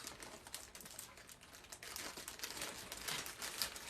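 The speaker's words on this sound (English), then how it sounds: "Let me cut a piece off." Dry crinkling and rustling of a baby's breath flower garland being cut into a piece, a steady close papery crackle running through the whole stretch with no talking.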